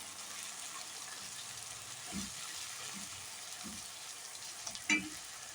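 Chili, salt and turmeric are stirred into okra masala in a pan, giving a soft sizzle under a few quiet scrapes of the spoon and one sharper knock near the end.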